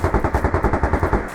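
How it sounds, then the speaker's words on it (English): Sustained, rapid automatic gunfire from turrets rattles in a dense string of about a dozen evenly spaced bursts. It is loud and close, with no voices. "immediately there's a hail of gunfire on the other side of the door"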